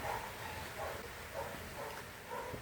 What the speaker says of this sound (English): Fucking neighbours' dogs have started.